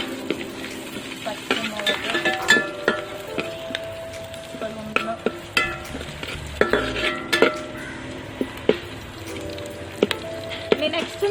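Onion, ginger, garlic and green chilli frying in a pan for a Kerala-style clam meat fry, with a steady soft sizzle, repeated scraping stirs and clinks, and a voice talking over it.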